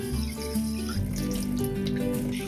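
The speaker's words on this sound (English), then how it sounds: "Rinse the mung beans." Running water pours and splashes into a container as mung beans are rinsed, a steady close-up gurgle with shifting tones.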